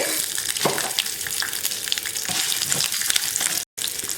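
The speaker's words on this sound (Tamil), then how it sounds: "இப்போ உளுத்தம்பருப்பு நல்லா பொரிஞ்சிருச்சு" Urad dal and dried red chillies fry in hot oil for a small onion chutney, a steady close sizzle and crackle with light stirring scrapes throughout.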